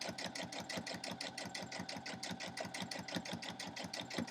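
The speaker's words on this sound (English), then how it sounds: "because I didn't put it back to a straight stitch, it started stitching regularly" A sewing machine runs steadily in a fast, even rhythm while stitching a quilt-as-you-go block, set to a zigzag stitch instead of straight; the close, continuous mechanical chatter stays constant throughout with no talking.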